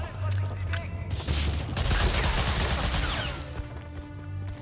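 Enemies shooting in the video game Medal of Honor: Frontline, sustained rapid bursts of gunfire building to a loud, dense volley that fades away, over a low background rumble.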